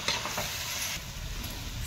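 A spatula churns a meatless curry frying in oil in a pan, a brief, close, continuous sizzle and scrape.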